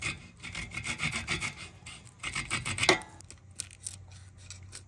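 A blade or rasp rubs and scrapes in short rhythmic strokes as wood is trimmed from a tapered hole, ending in a sharper scrape and then lighter intermittent scratching.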